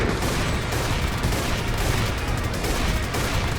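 Gunfire in Minecraft WarZ, with sniper shots in a crowded town battle, forms a dense, loud, unbroken barrage of overlapping shots and booms with no clear gaps.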